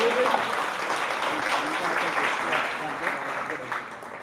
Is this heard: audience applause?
yes